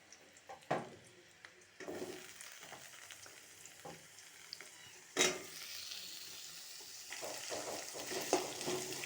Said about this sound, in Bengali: এবার পেঁয়াজ তেজপাতা আর আলু ভালোভাবে ভাজা হোক।